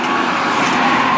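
A 2003 Kia Rio Cinco engine runs steadily while warming up on a cool fall day, a continuous broadband hum with no clear breaks and no talking.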